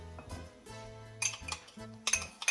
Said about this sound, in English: Let me get a spoon